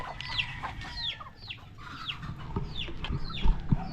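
A pet chicken clucks while being fed in the dim early morning, giving about six quick, close chirping clucks in an irregular run over soft low thumps, with no talking.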